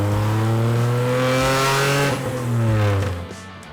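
A neon-lit tuk-tuk in Bangkok revs its engine hard. The loud, close motor climbs in pitch, dips, then roars again before fading, with no voices over it.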